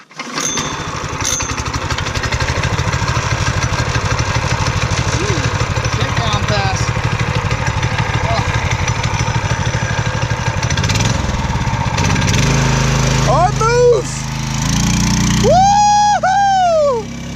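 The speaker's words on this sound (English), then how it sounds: "we'll be riding these go-karts together. All right, guys. First time ride." Go-karts with Predator 212 engines run on a first ride, their small engines droning steadily and loudly, then revving with rising and falling whines near the end while people talk over the noise.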